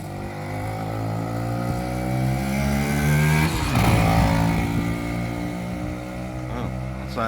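A Kawasaki KE100 motorcycle engine on a restoration project runs steadily nearby with a buzzing two-stroke drone, rising briefly in pitch before settling back to a loud, even idle.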